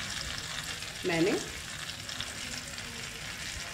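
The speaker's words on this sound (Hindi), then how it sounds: "और अब मैं इसमें डाल रही हूँ ये प्याज।" Chopped onions hitting hot oil in a pan for stuffed parwal curry, a sudden sizzling burst that settles into steady frying, with someone speaking briefly.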